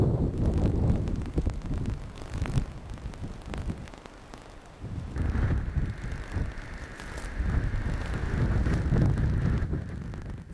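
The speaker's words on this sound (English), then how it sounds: "Hear that wind." Strong wind gusting across a railway bridge under repair on a heritage line, a loud roaring rush with buffeting microphone noise that dips midway and then swells again, with no one speaking.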